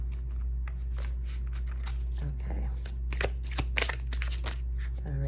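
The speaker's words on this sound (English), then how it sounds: "I am going to shuffle these guys because" A thick tarot-style deck of cards is shuffled by hand close up, with rapid riffling bursts over a steady low hum, and a voice speaks briefly.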